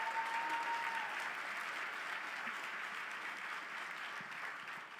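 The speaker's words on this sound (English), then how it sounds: "a round of applause for the folks in the house too" A crowd at an evening draft-style event for young researchers gives steady applause, a dense even wash of clapping that holds for about five seconds at moderate distance, fading slightly toward the end with no talk over it.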